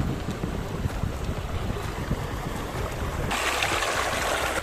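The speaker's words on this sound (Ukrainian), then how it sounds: "Вода втікає з цієї гори." Steady broadband rush of water flowing down a mountain in Turkey, loud and continuous, with a brighter, hissier surge in the last second or so.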